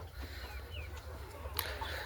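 Desi chickens clucking softly on a poultry farm, scattered short calls over a steady low hum, no voices.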